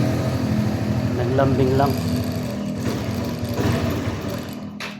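A Motoposh EVO Deluxe scooter's small engine sputters and runs after sitting unused for three months, a steady buzzing idle close by with people talking over it.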